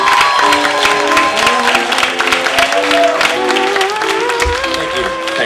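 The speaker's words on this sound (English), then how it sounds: "keep applauding for Pete" A comedy club audience claps and cheers steadily for a stand-up comedian taking the stage, a dense, loud wash of applause that keeps up without a break.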